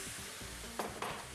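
Grand Marnier liqueur hits a hot frying pan with a bright hiss, two quick sizzling bursts over steady background noise.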